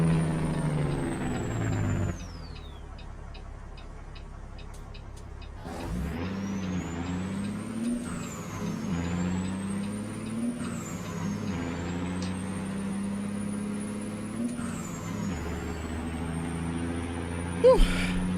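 American Truck Simulator truck engine drones steadily and loudly with low harmonic rumble, rising and falling in pitch as it revs through gears, with a brief hiss and a quieter idle-like stretch near the start.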